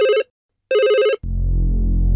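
A phone rings unanswered in two loud, close electronic warbling bursts separated by a gap, then cuts to a low sustained hum.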